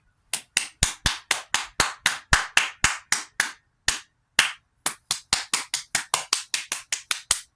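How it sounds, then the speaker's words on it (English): A single person claps in a round of applause, sharp close-up hand claps in a quick steady rhythm with one brief pause midway, loud and dry against silence. "Round of applause."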